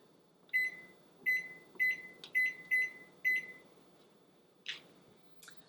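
Six short electronic beeps in quick succession from a microwave keypad, followed by a couple of faint clicks, in an otherwise quiet room.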